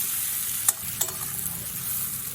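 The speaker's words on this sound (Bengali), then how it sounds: "সব কিছু আমি এখন খুব ভালো করে ভাজা ভাজা করে নেব" Boiled-potato filling for vegetarian bread chop fries and sizzles steadily in a pan, with two sharp scraping clicks of a spoon stirring it up close, no voices.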